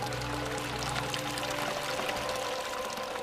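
Water from the Chalice Well sacred spring, iron-red, pours and trickles in a continuous close splashing stream, steady and moderately quiet throughout.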